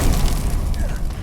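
Confringo explosive spell blast in Hogwarts Legacy, a dense, loud booming burst filling the short moment with heavy low rumble and scattered crackle, no talking over it.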